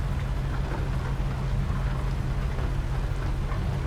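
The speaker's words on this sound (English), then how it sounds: "It's going to rain." Steady rainfall in American Truck Simulator while driving a truck on I-40 in Oklahoma, a continuous dense patter over a deep low rumble, even in loudness throughout.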